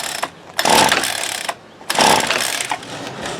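A Ryobi SS30 string trimmer's small two-stroke engine, running on half choke, revs in two loud buzzing bursts, each about a second long, separated by a drop to a sputtering idle.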